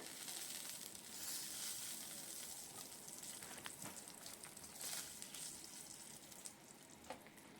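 Dried chili, a bay leaf and whole cumin seeds fry in hot oil as a tempering for a Bengali rohu fish curry with green banana and potato, giving a steady close sizzle with a few crackling pops.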